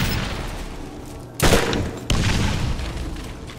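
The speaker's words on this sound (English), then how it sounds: "You see all those fireworks?" Fireworks in Borderlands burst in two loud, close blasts about a second apart over a continuous noisy backdrop of game sound.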